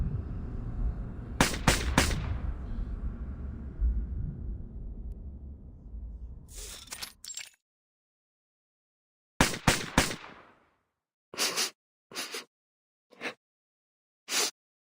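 Gunfire in a video game: a rapid burst of shots, then a long rumbling tail, silence, and a string of separate sharp cracks spaced unevenly, loud and close.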